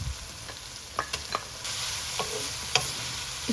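Onions with garlic-ginger paste frying in oil for matar keema, a steady close sizzle with several sharp clicks and scrapes of a spoon stirring the pan, no voices.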